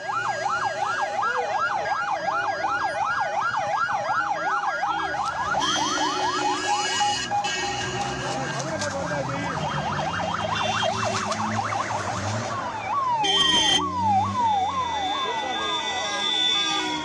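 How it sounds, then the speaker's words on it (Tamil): Several ambulance sirens wail through the streets of Karur after a crowd stampede at a political rally. Their rapid rising-and-falling tones overlap and shift pitch amid crowd noise and traffic, with a different yelping siren pattern near the end. "கரூர் எங்கும் ஆம்புலன்ஸ் சத்தம் கேட்டது"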